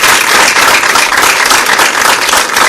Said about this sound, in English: A round of applause, one for them now.